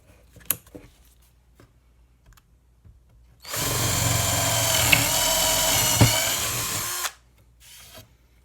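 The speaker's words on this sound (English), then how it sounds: "And we'll switch that over to the drill function." A KIMO 20V cordless drill driver, set to drill mode with a brad tip bit, whirs steadily at high speed for about four seconds after a few quiet clicks, then stops; a brief faint whir follows.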